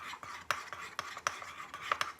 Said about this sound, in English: what I'm gonna do is just whisk and stir all of this stuff together